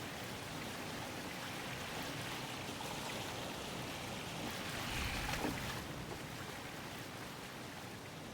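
Water waves wash continuously in a Wild West map of the game Garry's Mod, a soft, even surf-like rush that swells slightly midway and plays alone.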